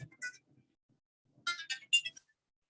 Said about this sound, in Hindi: एक minute, Amit Shukla sir phone किया।